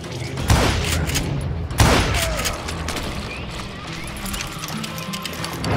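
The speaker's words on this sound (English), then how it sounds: "a fusillade of bullets come raining down from on high" Gunfire volley in the Call of Juarez Gunslinger western shooter, with two loud booming shots followed by a scattered crackle of distant rifle and pistol fire.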